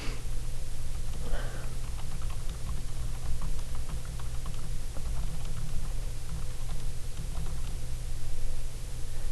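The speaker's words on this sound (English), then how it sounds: "I can start typing" Typing on a computer keyboard, a quick patter of light clicks running continuously over a steady background hum, moderately close.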